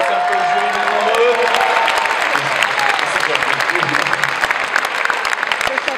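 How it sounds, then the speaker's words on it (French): Audience applause for a singer at a Star Senior 2013 show, dense and steady throughout with crowd noise and a voice speaking over it. "On peut l'applaudir encore une fois"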